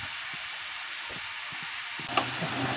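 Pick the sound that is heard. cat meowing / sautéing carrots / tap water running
sautéing carrots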